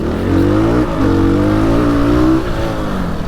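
A 2019 Fantic Motor Enduro 250 motorcycle engine revving loudly and close while the bike turns in a tight space, pitch rising and falling in a couple of throttle blips.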